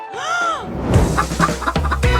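A chicken gives a rising, drawn-out cluck, followed by close clattering and knocking kitchen sounds in a cooking setting, with no talk.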